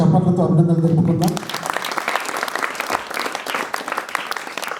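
An audience applauds the Chess Network team at a chess board distribution event in Manthani, a dense, sustained wash of clapping that breaks in after a voice talks at the start.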